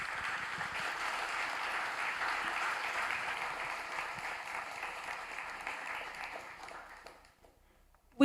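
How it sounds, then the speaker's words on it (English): A room of audience members at a green finance panel event clap together for the panelists, a sustained even round that fades away before a sharp sound at the very end. "let's just make a round of applause"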